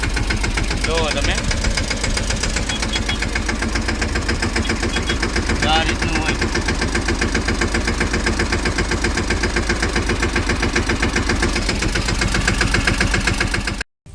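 A tractor engine runs slowly on a farm, a steady close knocking chug throughout while someone talks over it.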